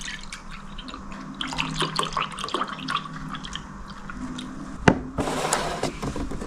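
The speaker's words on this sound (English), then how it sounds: "So I'm going to put the half a cup of milk in this same mug" Full cream milk poured into a mug, a faint liquid trickle with small drips and clinks under a quiet kitchen background, ending in a brief louder splash of pouring.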